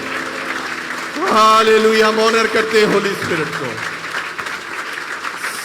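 A church congregation at an Apostolic church service applauds with sustained, dense clapping while a voice speaks loudly over it.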